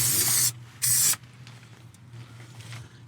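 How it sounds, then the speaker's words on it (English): Stone chip coating sprayed onto Ford car components during rust repair: two loud broadband hissing bursts, roughly half a second each, close by, then quieter workshop rustle with a steady low hum underneath. "Everything that's component, I think we'll spray with stone chip."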